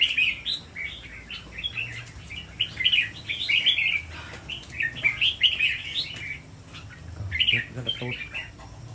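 A songbird chirps nearby in lively, near-continuous bursts of high tweets and squawky notes, with faint low background noise and some brief rustling toward the end.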